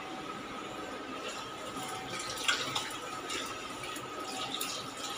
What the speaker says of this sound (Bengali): তো এটাকে ভালো করে আগে আমি ধুয়ে নিই চিকেনটাকে